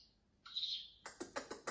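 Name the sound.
imitation of house sparrow call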